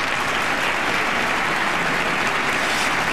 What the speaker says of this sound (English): the long-honored tradition of standing and applauding